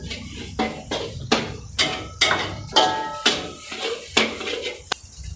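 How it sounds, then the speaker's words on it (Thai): Metal spatula scraping and clanking repeatedly in a pan while rice is stir-fried with egg and pork, about ten loud, evenly spaced strikes over a steady background hiss. "เสร็จแล้วเราจะใส่ข้าวลงไปเลยนะครับคลุกให้เข้ากันนะครับ"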